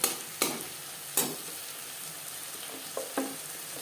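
Mashed tomato frying in a pan with ginger paste, green chilli paste and spices for a rohu fish curry with flat beans, giving a steady soft sizzle broken by several short sharp stirring scrapes.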